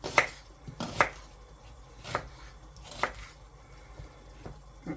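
Onion being roughly chopped with a knife for tomato sauce, a handful of sharp, separate blade strikes on a cutting board at uneven intervals, close and fairly quiet, with no talking.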